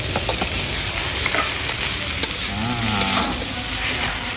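Kepayang fruit cooking with belacan in a pan gives a steady, close sizzle and frying hiss, with stirring scrapes and clinks scattered throughout and no talk.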